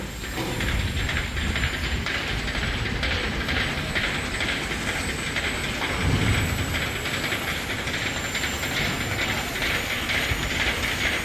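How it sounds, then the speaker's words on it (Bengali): Welding of steel plates on a launch boat in a dockyard, heard as a steady, loud, continuous hissing crackle with broadband industrial noise throughout. "লঞ্চটির প্লেট ঝালাইয়ের কাজ চলছে।"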